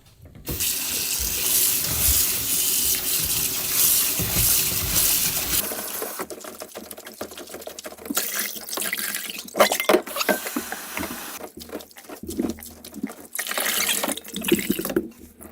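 Tap water runs loud and steady into a bowl as green laver seaweed is rinsed by hand, then splashing and sloshing bursts as the seaweed is worked in the water, with no talk.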